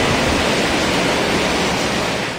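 Floodwater rushes across the Narciso Ramos Highway in Lanao del Sur, a loud, dense, unbroken roar of churning water filling the whole moment, with no voices.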